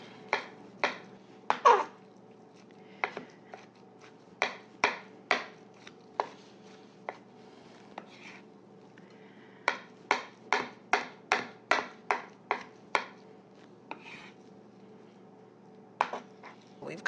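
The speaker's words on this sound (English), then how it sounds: "And by chopping it together" A knife chops shrimp and ground pork together on a cutting board, sharp irregular thuds coming in quick bursts and pauses, close and crisp, with a faint low hum underneath.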